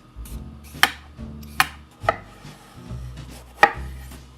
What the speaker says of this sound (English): we're going to peel it and chop it up into half-inch chunks